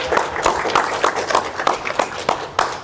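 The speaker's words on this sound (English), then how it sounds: "let's just give the Tesla team a quick round of applause" Applause from an audience honoring the Tesla engineering team, with a dense, steady patter of many hands clapping for a few seconds.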